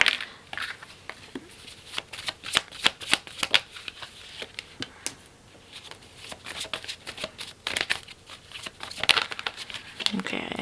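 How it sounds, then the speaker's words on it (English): Tarot cards shuffled and drawn by hand, with rapid riffling, flicking and sliding card sounds close up in irregular bursts, while someone talks over them. "Let's pull 6 cards for group number 1."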